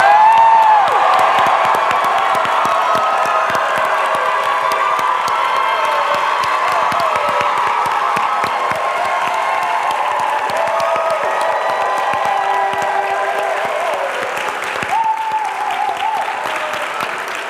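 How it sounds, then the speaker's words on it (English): A film festival audience applauding and cheering for over fifteen seconds, sustained clapping with scattered whoops and shouts, steady and loud before easing slightly toward the end. "we'd love everybody to give you a big round of applause"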